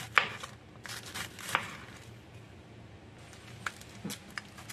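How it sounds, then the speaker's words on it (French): A knife slices pointed cabbage into julienne strips, a few sharp, separate chops with quiet pauses between them. "Et maintenant je vais couper les choux en julienne"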